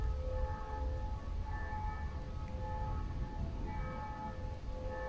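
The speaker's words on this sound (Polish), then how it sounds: "Dzwony w kościele." Church bells ring at noon in the distance, faint sustained tones hanging over quiet woodland ambience on a calm, windless autumn day.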